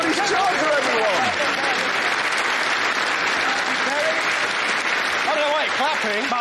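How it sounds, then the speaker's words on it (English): A studio audience claps loudly and continuously for a vintage Dodge Charger, a thick sustained wash of applause with scattered cheers and a voice speaking over it. "Clapping."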